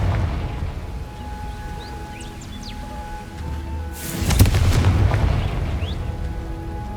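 A Confringo explosive spell blast in Hogwarts Legacy erupts partway through as a sudden loud boom with a rumbling tail, preceded by quieter ambience and faint bird chirps.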